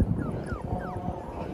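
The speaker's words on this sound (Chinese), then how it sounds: "小奶狗在这哇哇叫啊" A small stray puppy whimpers in a string of thin, high, wavering cries, several short whines close by over a low background rumble.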